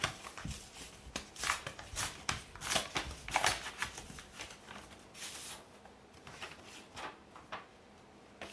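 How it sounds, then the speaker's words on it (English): A sealed paper envelope being torn open and handled, with close crinkling, rustling and ripping bursts that fade toward quieter paper shuffles, no voices. "we're going to open up, for the first time, unseal this envelope"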